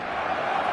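Stadium crowd in the eFootball 2026 football game, a steady, dense roar of many voices cheering, sustained without breaks and moderately loud throughout the short stretch.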